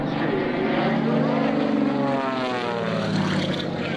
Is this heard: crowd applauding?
no